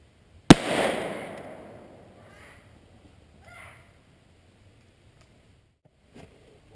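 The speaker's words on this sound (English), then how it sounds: "Velocitors from the pistol again." A pistol fires one sharp, loud shot of CCI Velocitor ammunition outdoors. The report rings out in a long decaying echo, followed by a few faint, scattered sounds.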